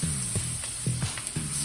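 A steak coated in garlic herb butter sears in a hot pan, giving a continuous loud hiss and sizzle with a few faint tonal sounds rising over it.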